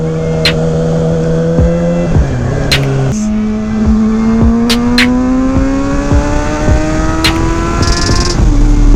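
Kawasaki ZX6R sport bike fitted with a Graves exhaust revs hard and climbs through rising engine tones, with sharp shifts and repeated throttle surges under a steady loud roar, echoing as if in a downtown Cincinnati tunnel.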